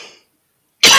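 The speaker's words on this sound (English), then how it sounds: "I got to cough my brains out" A single harsh cough bursts in loud and close at the end, after a brief bit of faint murmur and a stretch of near silence, during a casual coffee-shop chat about the Cold War.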